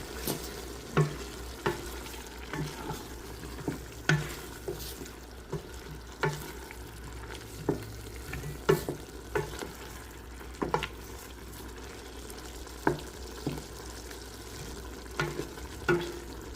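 A spoon stirs vegetable soup in a pot after a Parmesan rind goes in, giving soft scrapes and knocks at irregular intervals over a low simmering hiss, fairly quiet and close, without any voice.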